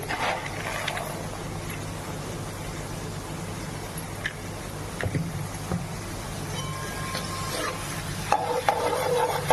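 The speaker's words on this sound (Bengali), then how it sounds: "অলরেডি আমার ভাজা হয়ে গেছে অর্ধেক" Dal fry snacks, an evening treat, bubble in hot oil with a continuous soft sizzle, joined by scraping and clinking from stirring that grows louder toward the end, with no voices.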